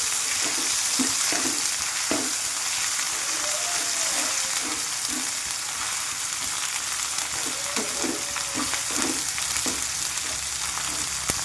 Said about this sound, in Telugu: అల్లం వెల్లుల్లి పేస్ట్ కూడా మంచిగా వేగిపోయింది.